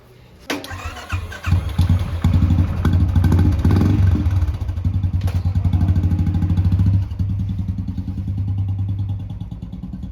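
A Royal Enfield Classic 350 motorcycle starts up on a city street in Lucknow, cranking into a loud, close thumping idle that settles into a steady chugging rumble and eases slightly toward the end.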